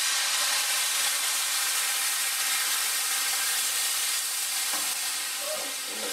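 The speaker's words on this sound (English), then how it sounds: "So we're going to stir in our wine." Vegetables sizzle loudly and steadily in a pan as wine is stirred in, a dense, even hiss with a few soft utensil knocks toward the end.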